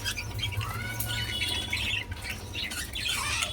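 Several caged pet birds squawk and chirp in overlapping calls throughout, a steady busy chorus close by with a low hum underneath.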